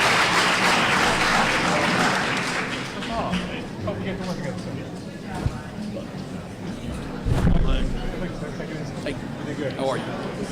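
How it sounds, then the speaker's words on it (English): Audience applause at a political candidates forum, a broad sustained clatter that fades slightly after a few seconds, with a low thump and murmuring voices mixed in. "we could have another round of applause"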